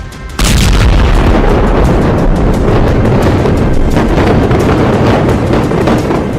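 A heavy, sustained roaring boom from Iranian ballistic missiles striking Tel Nof military base in central Israel. It erupts suddenly and stays loud and rumbling for several seconds, with no speech.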